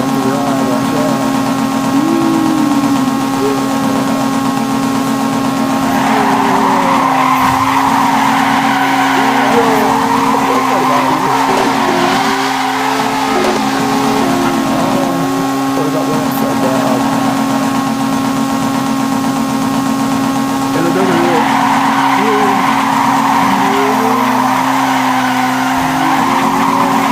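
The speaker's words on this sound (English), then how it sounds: "Why are you gonna crash my car?" A car skids along at speed, its tires squealing in long, wavering tones over a steady engine drone, loud and close throughout, with voices now and then underneath.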